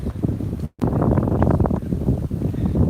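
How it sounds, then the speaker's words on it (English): Strong wind buffets a microphone outdoors in Tokyo at the end of cherry blossom season, a loud, steady roar with one brief dropout, and no one speaks. "You can hear the winds maybe through the microphone right now."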